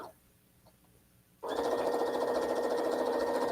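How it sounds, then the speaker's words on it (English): A sewing machine running a quarter-inch seam: after a quiet pause with faint handling noise, the motor starts abruptly and whirs steadily at close range with a fast, even stitching rhythm. "I'm going to sew a seam a 1/4-inch away from that line."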